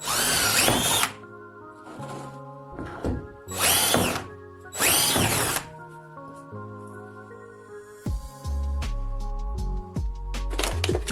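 A handheld power drill whirs loudly in three separate bursts, each about a second long, with quieter tool handling and clicking noises between them and a tonal background running throughout.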